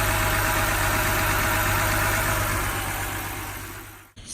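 Engine of a 2007 BMW 328i with an ignition coil misfire, idling while burning excess oil: a steady low hum and drone that fades slightly before a brief dip near the end, close and alone.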